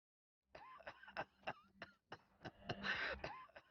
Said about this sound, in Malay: Adakah di kalangan keluarga anda mempunyai tanda-tanda batuk sebegini?